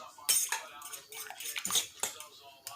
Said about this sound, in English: I'm using a fork, and you just want to stir everything together